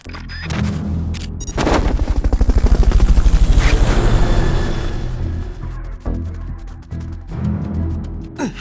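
Helicopter in Metal Gear Solid: Peace Walker during a Fulton recovery, its rotor chop swelling into a loud rhythmic thumping mid-clip, then fading under scattered game effects.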